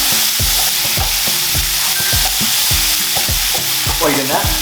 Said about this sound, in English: Nice little fry.